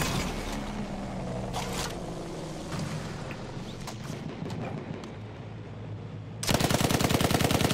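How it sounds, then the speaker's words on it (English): A turret machine gun fires at a heavy bomber in a Battlefield 1 battle, heavy rapid bursts over a rumbling din of distant gunfire and explosions, ending in a loud close sustained burst. "I'm shooting it with the turret"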